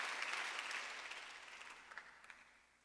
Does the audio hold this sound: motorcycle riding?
no